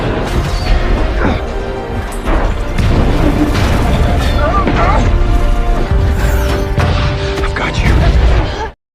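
A satellite blowing up in the 2017 disaster film Geostorm: a run of loud booming blasts and crashing debris impacts, one after another with a mechanical rumble beneath, under narration.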